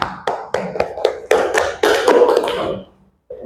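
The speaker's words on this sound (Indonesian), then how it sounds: "Beri tepuk tangan untuk kelompok" A group gives a rhythmic round of applause, about eight to ten sharp claps in a quickening pattern that swells into a brief flurry before stopping, followed by a soft short sound after a pause.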